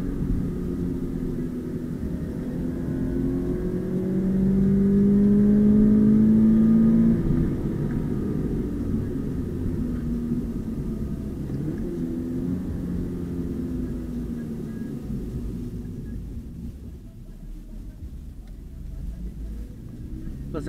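A 2020 Subaru BRZ accelerates hard from a standstill, its engine rumbling and rising in pitch as it pulls through the gears, heard from inside the cabin at moderate loudness with a steady road roar beneath.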